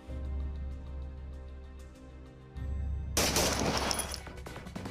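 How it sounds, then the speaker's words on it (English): A barrage of gunfire in a residential neighborhood, caught in news footage, arrives as a sudden harsh burst of rapid cracks after a few seconds of low droning sound. "a barrage of bullets being fired in a local neighborhood"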